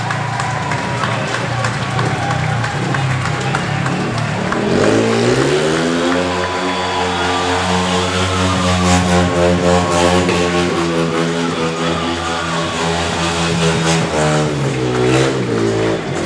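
Speedway motorcycles at a Poole Pirates versus Oxford semi-final meeting rev hard while spinning donuts, a loud sustained engine roar rising and wavering in pitch, with a crowd and a commentator's voice running underneath.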